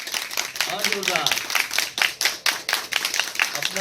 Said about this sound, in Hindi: एक जोरदार तालियों के साथ आप अपना भी स्वागत करें